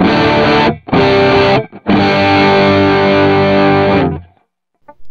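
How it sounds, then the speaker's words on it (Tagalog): Electric guitar played through a Tube Screamer overdrive on a Zoom G5n multi-effects pedal, with no delay or reverb: loud, thick distorted chords in three strummed bursts separated by short gaps, the last one ringing out and fading. "Pakinggan naman natin siya na may Tube Screamer."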